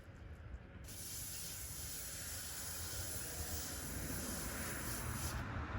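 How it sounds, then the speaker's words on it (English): A steady, close aerosol hiss of penetrant sprayed into the spark plug holes of a stuck engine begins after a short pause and continues unbroken for several seconds with no voices. "we're just going to go ahead and spray this down in the spark plug holes"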